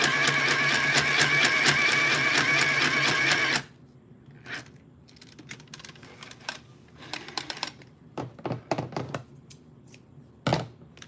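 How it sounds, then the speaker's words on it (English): A sewing machine runs a rapid, steady stitching burst for a few seconds while an Etsy order is sewn in a garage, then stops, leaving quieter scattered handling clicks and rustles. "now we got the other one sewn"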